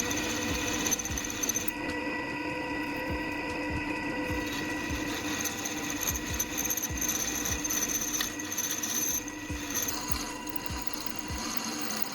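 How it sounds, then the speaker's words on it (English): Steady mechanical whirring and grinding of a drill press boring holes through steel from an old car leaf spring, with repeated rhythmic ticking clicks throughout, no voices. "I'm using a drill press to make accurate holes through the metal"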